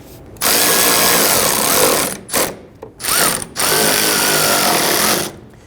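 A power tool snugs down the bumper cover fasteners while a 2011-2023 Dodge Charger headlight is replaced: loud, close buzzing whirs in three bursts, the middle two short and the last long and steady.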